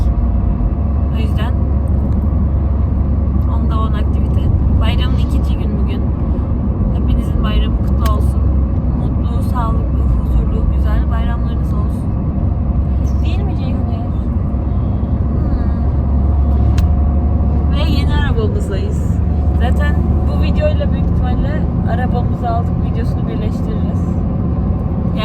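Inside a Mini Cooper S on the road, a steady low engine and road rumble fills the cabin, constant and loud, with people talking over it.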